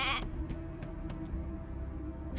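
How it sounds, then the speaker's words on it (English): Sheep bleating in the video game Divinity Original Sin II: one short, loud bleat at the start, then game ambience with a few faint clicks and a low background hum. "Hey, a sheep!"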